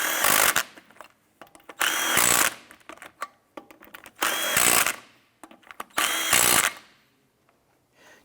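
Wheel lug nuts on a 2005-2007 Ford Five Hundred are snugged down with a power tool in four loud, close bursts of whirring and rattling, each under a second long, with short quiet gaps between them.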